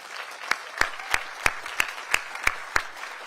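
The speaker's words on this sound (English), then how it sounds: "Let's give Ellen a round of applause." Applause from the audience at a South Carolina Teacher of the Year announcement: about eight sharp, evenly spaced claps stand out clearly over a soft background murmur.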